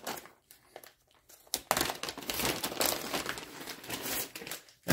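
High temperature tape crinkles and crackles in close handling, a dense papery rustle that starts softly and swells into a steady, busy stretch of crumpling.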